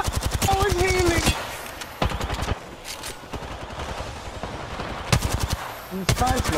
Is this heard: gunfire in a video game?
yes